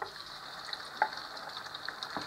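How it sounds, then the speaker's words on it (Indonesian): Shrimp sizzle and crackle steadily in hot oil, a soft continuous frying hiss with a few small pops, fairly quiet and close. "Maka lebih baik kita goreng terlebih dahulu. Ini minyaknya sudah panas."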